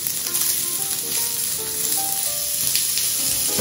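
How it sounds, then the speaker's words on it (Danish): Lardons sizzle steadily in a hot pan, a dense continuous crackle and hiss with occasional pops, close and loud throughout, with no talking. "Og så steger vi vores lardon."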